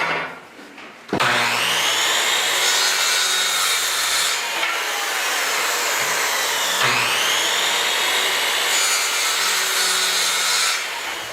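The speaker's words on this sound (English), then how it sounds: "Planing the form staves, somewhat like barrel staves, allows them to fit together neatly." Hand plane shaving wooden form staves for a furnace mold, a long continuous rasping stroke of blade on wood running loud and close with only a brief break, no talking.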